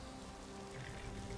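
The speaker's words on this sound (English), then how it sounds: "Why is it always raining?" Rain falls in the video game Skyrim, a soft, even hiss of drops on surfaces that stays faint and steady throughout with no speech.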